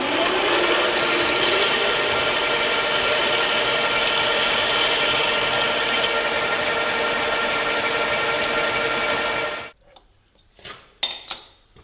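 A hand saw cuts steadily through a workpiece blank in a workshop, a loud continuous rasping that stops abruptly near the end, followed by a few faint clicks and knocks.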